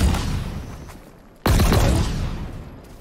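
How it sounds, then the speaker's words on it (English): A fireworks gun fires in the Halo Infinite shooter game: a sudden loud, crackling blast bursts in after a steady background rumble, then stays dense and noisy for over a second. "It's like fireworks. Fireworks gun."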